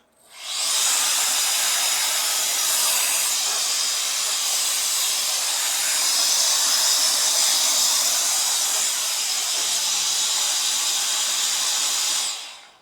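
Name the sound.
compressed air mini blower blowing dust out of keyboard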